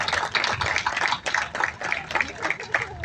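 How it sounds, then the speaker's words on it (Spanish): An audience at a tribute event for a comic artist at a national comics festival applauds steadily, dense overlapping claps throughout with no pause. "Fuertes los aplausos nuevamente"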